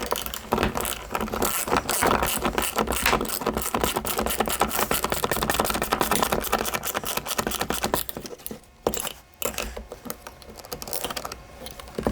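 A ratchet tightens a fog light bracket bolt on a 5th-gen Toyota 4Runner, producing dense, rapid clicking that runs steadily for several seconds before turning sparser and more broken, close and loud.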